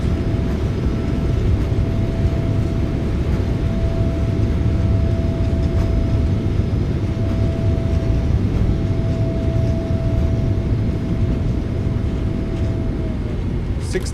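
Thrust reversers roaring on a PMDG 777-300ER decelerating after landing in MSFS2024, a loud, steady broadband rumble with a faint whine that persists throughout.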